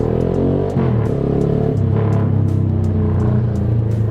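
Kawasaki Z200 motorcycle fitted with an Austin Racing aftermarket exhaust, its engine rumbling loud and close with a steady, throaty drone and brief throttle blips, heard without talk.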